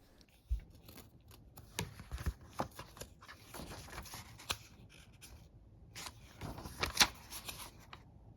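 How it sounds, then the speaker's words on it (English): Book pages turn gently one after another in a quiet room at bedtime, giving soft papery rustles and brushing sweeps with a few sharper flicks, close and faint, with no voices. "I love the sound of the pages as they gently turn"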